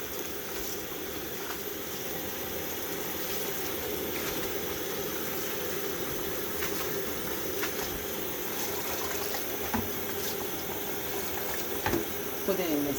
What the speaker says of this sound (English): you make sure you wash it very well in warm water